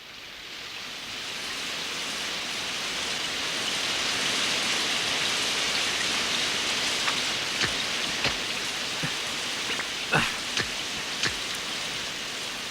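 Steady rain in a cartoon patters on a surface, a constant hiss with a few louder, close drips landing near the end.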